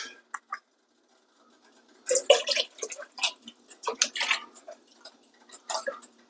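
Milk is poured into a pot of cheesy potato soup heating toward a boil. After a few faint splashes, a continuous splashing, gurgling pour follows with irregular bursts.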